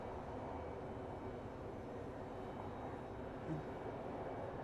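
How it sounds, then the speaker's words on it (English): A distant airliner at Phoenix Sky Harbor International Airport produces a faint, steady engine rumble and roar, low and continuous without talk. "Sounds like this plane is saying"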